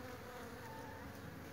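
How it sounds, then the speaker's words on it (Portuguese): Bees buzz steadily around blooming jabuticaba flowers, a close, continuous insect hum with no voices. "olha só as abelhas como está aqui trabalhando aqui"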